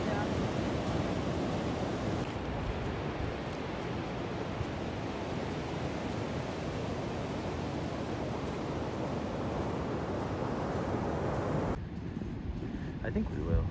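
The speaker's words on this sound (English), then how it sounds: "Some pretty good waves." Ocean waves break along the north coast in a steady, dense wash of surf noise mixed with wind rushing against the microphone, continuous for the whole stretch.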